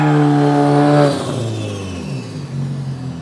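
A Cupra four-wheel-drive car revs its engine hard at a track day, holding a loud, steady high roar for about a second before the pitch drops and settles into a lower, rougher drone.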